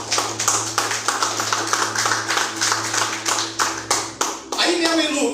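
A church congregation claps together in a steady rhythmic beat, loud and close, with a low sustained hum underneath and a few voices breaking in near the end.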